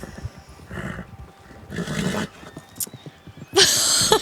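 Horses whinny and snort in Red Dead Redemption II, several short bursts with hoof clatter and a loud, bright neigh at the end, in a game scene with ambient sounds.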